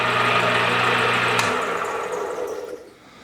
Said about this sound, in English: We're basically just buffing the CA glue.